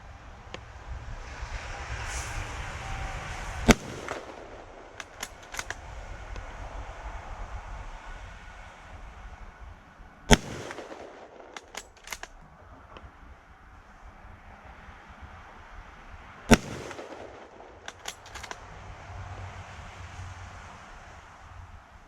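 Three sharp 8mm rifle shots with Greek surplus ammunition, spaced about six seconds apart outdoors, each a sudden crack over steady wind rumble on the microphone.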